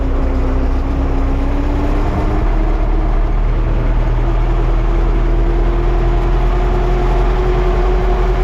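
An MTZ 82 tractor engine runs steadily while ploughing in freezing winter conditions, giving a loud, constant low drone with a sustained hum and no pauses.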